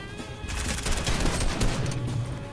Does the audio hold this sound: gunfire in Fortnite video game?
yes